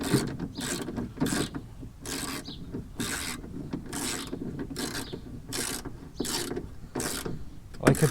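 A ratchet tightens a bolt on a Miata MX5 electric window mechanism. It gives a regular series of about a dozen rasping clicks in steady strokes, close and alone.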